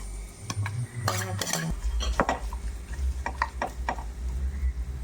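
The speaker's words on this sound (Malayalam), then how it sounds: "നമുക്ക് കശുവണ്ടി മുന്തിരിങ്ങ എല്ലാം വറുത്തെടുക്കാം" Cashews and raisins fry in ghee for a banana payasam, a busy, close clatter of a spoon scraping and stirring in the pan over a soft sizzle, with metallic clinks scattered throughout.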